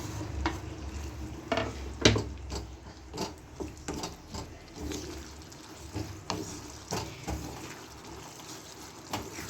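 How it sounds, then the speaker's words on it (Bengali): Spice masala with chopped chillies and fried onion is stirred in a pan for chilli do pyaza, soft sizzling under repeated scraping strokes and occasional utensil knocks, no talking. "এবার মশলাটাকে আমি ভালো করে কষে নেব।"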